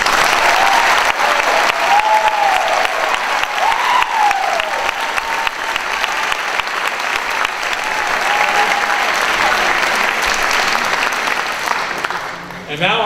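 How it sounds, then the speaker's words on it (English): An audience at a university commencement for performing arts graduates applauds in a sustained, loud wave of clapping with scattered cheers and voices, easing off near the end. "Let's all give them a round of applause."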